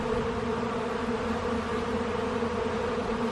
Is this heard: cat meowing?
no